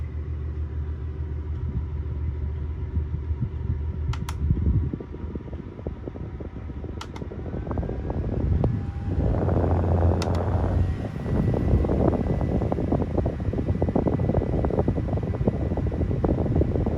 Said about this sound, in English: for these two box fans here